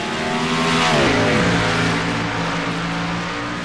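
Race cars on the Chicago street course roar past in a loud, continuous engine drone, with pitch sliding downward as they go by and shift through a turn.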